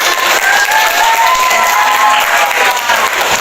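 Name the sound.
applause for opposing group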